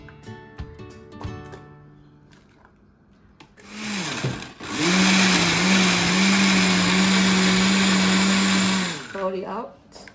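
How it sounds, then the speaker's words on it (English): Blender whirring through Malaysian chicken curry paste ingredients, a loud steady motor drone lasting about five seconds after a few knocks and clatters, then winding down. "Now put everything in the blender."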